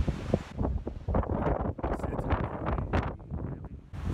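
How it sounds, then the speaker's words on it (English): Gusty wind buffets the microphone on a Mediterranean coastal cliff at La Ciotat, France, a loud, continuous rumbling roar with irregular surges throughout. "Sorry for the wind, it's a little windy"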